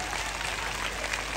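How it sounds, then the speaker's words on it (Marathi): Audience at a Home Minister game-show event for a shop opening in Sangli claps with hands raised, a continuous bright patter of applause held at an even level throughout. "हात वरती करून टाळ्या वाजवा"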